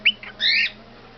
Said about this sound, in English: Such a pretty bird.